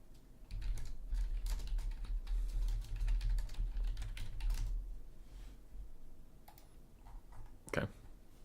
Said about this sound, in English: someone was typing about something